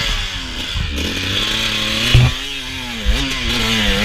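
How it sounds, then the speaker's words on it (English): Dirt bike engine firing up and revving during a hare scramble race on a tight wooded section, loud and close, with a steady buzzing idle and two sharp throttle blips. "I get up, I get the bike started again."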